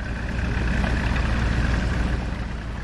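A train in the PC game Syberia rolls in with a steady, low mechanical rumble that holds even and close throughout, with no voices.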